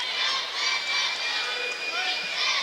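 A large, boisterous crowd with rowdy student sections fills a high school basketball gym with a steady, dense roar of voices and cheering.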